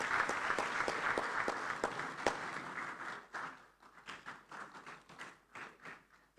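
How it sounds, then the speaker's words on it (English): Audience applause at an African inter-parliamentary conference as a Senate deputy speaker walks to the podium; steady crowd clapping with a few sharp close claps, thinning and turning patchy toward the end. "Please, a round of applause for her as she takes the podium."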